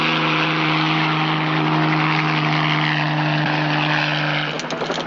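Helicopter engine and rotor drone loudly and steadily throughout, close by, with a slight change near the end.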